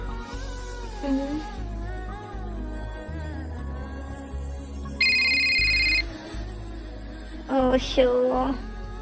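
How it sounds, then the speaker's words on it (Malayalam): A phone ringtone rings at home for about a second as a steady tone, with other sounds and voices around it and a second burst near the end. "ഫോൺ അവിടെ കിടന്ന് അടിക്കട്ടെ"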